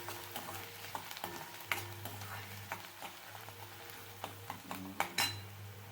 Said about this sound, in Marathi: कांदा व्यवस्थित भाजून घ्यायचा